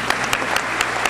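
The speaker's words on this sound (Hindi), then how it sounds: "जोरदार तालियां" A Hindi poetry gathering's audience claps loudly and steadily, with a few sharper spikes standing out from the continuous patter of hands.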